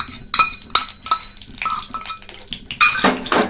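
A pot of ghugni set on a stove with white oil added gives sharp metallic clanks and clinks of cookware, close and fairly loud, in irregular bursts with no talking.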